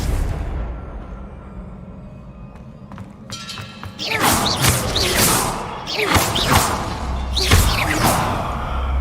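The Confringo spell from Hogwarts Legacy goes off in a series of heavy blasts: three loud, crashing explosions with whooshing debris, following a quieter lead-in.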